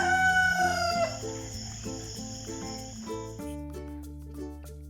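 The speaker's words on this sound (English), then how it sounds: "This is the rooster." Rooster crowing in a cartoon-style farm scene, one bright crow over a bed of cheerful music, with faint clucks and the tune carrying on afterward.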